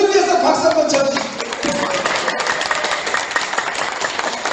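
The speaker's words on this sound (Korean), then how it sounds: "우리 모두 위해서 박수 한번 쳐주십시오." Loud applause from a lecture audience at a Korean business talk, a voice speaking at first before a dense, sustained roar of clapping fills the rest.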